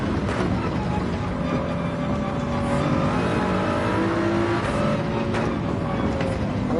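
Toyota Supra race car in Gran Turismo 7 at the Red Bull Ring, its engine a continuous loud drone with shifting pitch as it accelerates through laps.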